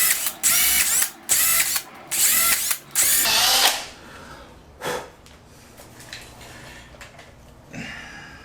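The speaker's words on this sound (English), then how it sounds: "I'm not very good at drilling straight, too." A power drill bores into an old house's wooden window frame to fit latches. Four loud whirring bursts stop and start in quick succession, then quieter clicks and handling noises follow.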